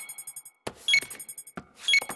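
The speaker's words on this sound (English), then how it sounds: "Why is the computer beeping?" A library computer gives rapid electronic beeps in a repeating rhythmic pattern, interrupted by two bright tonal chimes, loud and close.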